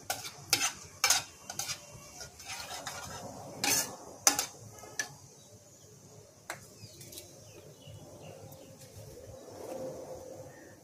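Onion and garlic go into hot oil in a pan for kala chana ghugni, with a soft sizzle under several sharp clanks and scrapes of a spoon against the pan; a bird chirps faintly in the background.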